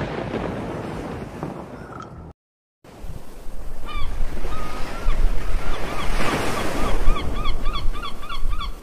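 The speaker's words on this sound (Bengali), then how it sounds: "হঠাৎ জাহাজের পানির ঢেউ তীব্র হয়ে ওঠে।" Intense ocean waves surge and crash around a ship at sea in a horror adventure, a loud, steady roar of surf with wind, briefly cut by a gap of silence before building again, with honk-like calls toward the end.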